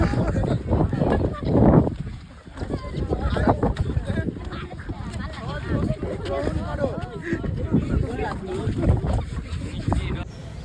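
Boat crossing a river through strong waves, with wind buffeting the microphone and water sloshing in an uneven roar; people talk over it throughout.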